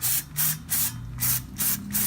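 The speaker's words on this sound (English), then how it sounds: "spray with some brake cleaner" Short bursts of aerosol brake cleaner hiss close by on rear disc brake parts of a 2006-2011 Honda Civic Si, about five in a steady rhythm with brief pauses between them.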